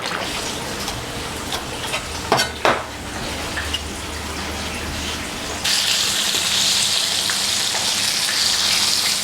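Eggplant frying in a pan of tomato sauce with garlic, a steady close sizzle with a few clanks of utensil against pan early on, then the frying grows louder and brighter.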